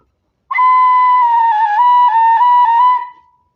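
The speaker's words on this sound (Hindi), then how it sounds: "ये बांसुरी से अभी आवाज़ नहीं आ रही है, लेकिन जैसे ही मैं ये फूंक मारूंगा तो आपको आवाज़ सुनाई पड़ेगी।" A bansuri bamboo flute sounds one steady, clear breathy tone, close and loud, held for about three seconds with slight wavering in pitch before it fades.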